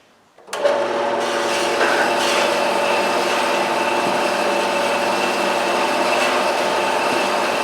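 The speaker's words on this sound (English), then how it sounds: "the bandsaw should give me a fairly straight cut" A band saw cuts through a 1.5 inch piece of steel, starting abruptly and then running as a steady, loud, close grinding drone with a constant high whine and no pauses, heard alone without speech.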